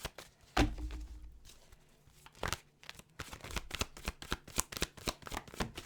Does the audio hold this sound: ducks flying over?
no